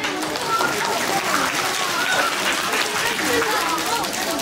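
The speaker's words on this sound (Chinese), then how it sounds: "大家掌声欢迎。" Audience applause at a university New Year party in Hunan, a dense continuous wash of clapping from a large crowd with voices mixed in.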